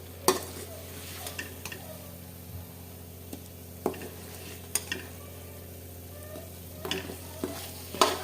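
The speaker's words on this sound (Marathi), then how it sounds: "हे बघा मस्त असं मसाल्यांमध्ये परतलंय शेंगा." Green beans being stir-fried in spices in a pan, a steady soft sizzle running throughout with occasional scrapes and clinks of a spoon against the pan, close and fairly quiet.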